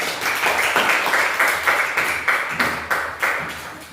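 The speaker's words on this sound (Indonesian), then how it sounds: "tepuk tangan dulu buat kelompok" A seventh-grade class claps for a student group after a Bible lesson, giving a steady run of fairly even, moderately loud claps for about four seconds with no talking.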